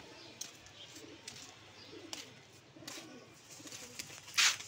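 Soft, low cooing of a pigeon blends into a quiet outdoor background, with a brief sharper chirp near the end.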